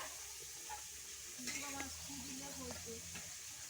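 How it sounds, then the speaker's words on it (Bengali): Fish sizzles in oil over an outdoor clay stove, a soft, steady hiss beneath faint stirring and clinks, with a voice murmuring nearby. "এদিকে দেখতে পাচ্ছ মাছ ভাজা হচ্ছে"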